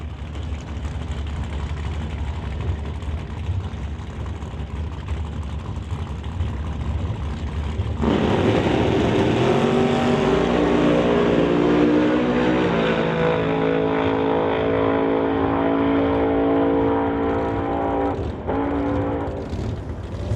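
Drag racing cars at a track, a 1966 Canso and a Corvette doorslammer, engines rumbling at the line and then roaring loudly into a hard launch, sustained close engine noise before fading.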